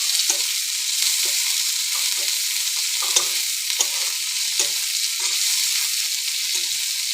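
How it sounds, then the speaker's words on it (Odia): Onions frying in hot oil for a home-cooked Odia fish curry, a steady close hiss of sizzling with soft stirring scrapes and small crackles throughout, no talking. "ପିଆଜକୁ ପକାଇକିରି ତାକୁ ଟିକେ ତେଲରେ ଭଲକରି ଭାଜିବା"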